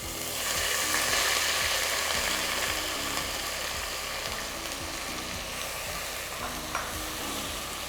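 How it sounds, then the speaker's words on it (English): Onion paste sizzles loudly in hot tempered oil for a Bengali prawn malai curry, a steady crackling hiss with rhythmic scraping and stirring running underneath, close and continuous, with no voices. "I will add the onion paste"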